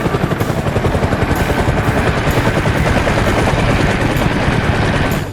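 Green-and-white toy helicopter with a spinning white propeller, giving a steady, loud, rapid chopping whir that runs continuously and alone before easing slightly at the end.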